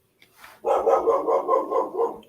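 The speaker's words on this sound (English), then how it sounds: "I think that's my dog." A dog barks repeatedly in a steady run of loud, close barks, one after another with no pauses, and no one speaks.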